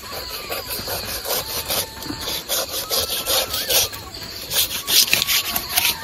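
A knife saws through a fresh stingray fish on a cutting surface, giving steady, close rasping strokes in a quick rhythm, with no voices over the cutting.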